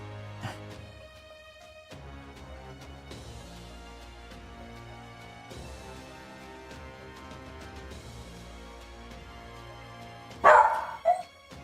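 A dog named Maya gives a short burst of loud, close barks near the end, after a long stretch of quiet background noise.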